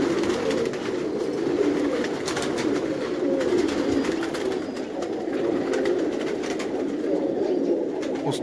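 Champion pigeons in a Karachi loft keep up a continuous low cooing chorus, many birds murmuring at once with scattered wing flaps and scratchy clicks, moderately close and without speech.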